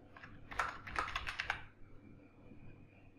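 A burst of fast typing on a computer keyboard, a quick cluster of close, crisp key clicks lasting about a second, then a quiet room hum.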